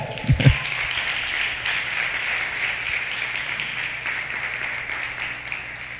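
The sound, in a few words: applause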